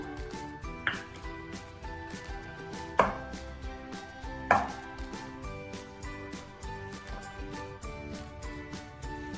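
A knife or utensil taps and scrapes against a board while cookie dough is mixed with chopped Dairy Milk chocolate, giving a few sharp strikes followed by a busy run of quicker, softer clicks up close.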